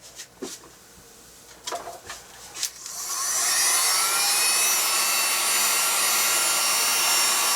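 A hair dryer blasts steadily on wet paint during a colour-mixing session, switching on after a few short clicks and handling noises and then roaring loud and continuous close by until the end.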